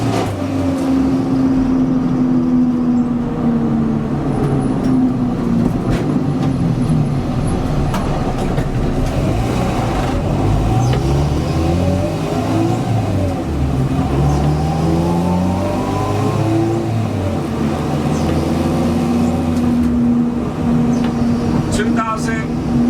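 A car engine revs and drops repeatedly as gears are shifted without the clutch, giving a series of rising and falling engine pitches under near-constant talking from the driver.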